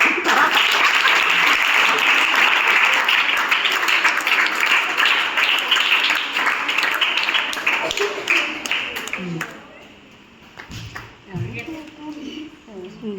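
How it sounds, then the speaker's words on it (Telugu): A group of people claps together in celebration, a dense, loud burst of applause that carries steadily for most of the span before thinning out, with voices talking as it fades. "క్లాప్స్ కొట్ట."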